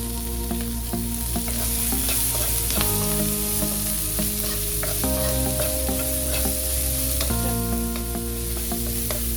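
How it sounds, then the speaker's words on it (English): Onions and cumin seeds (jeera) frying in a pan with cloves, a steady close sizzle and crackle running throughout, with occasional stirring clatter and no talk. "1 teaspoon of jeera. Allow this to splutter and I'm adding the onions."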